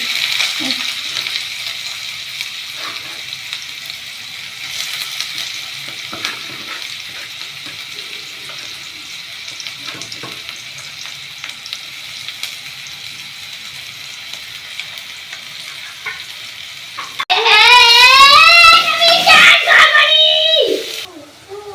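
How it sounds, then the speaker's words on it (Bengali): Onion paste goes into hot oil and fries with a soft, steady sizzle that runs for a long stretch, then a louder tonal burst near the end, likely a voice. "তেলটা গরম হয়ে গেছে এবার পেঁয়াজগুলো দিয়ে দেবো"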